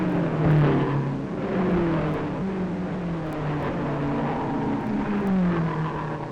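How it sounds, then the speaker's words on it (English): Supercharged race car engines roar at the Tripoli road race, a dense, sustained blare of several cars with engine notes climbing and falling as they accelerate past, loud and continuous throughout. "The surging power of the supercharged engines gives wings to their wheels."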